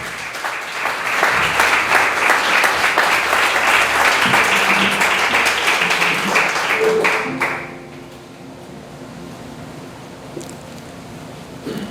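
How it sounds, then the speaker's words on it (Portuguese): A church congregation at a communion night service claps in praise, a loud sustained wave of applause for about seven seconds before it fades into quieter room noise. "Eu queria que você louvasse a Deus com palmas por essa palavra."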